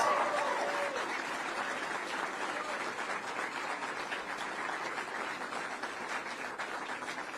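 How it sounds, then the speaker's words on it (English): Audience applause at a Kentucky Democratic primary victory event, a sustained wash of clapping from a sizable crowd, steady and moderately distant. "Let's give them a big round of applause for everything they've done for Kentucky over the years."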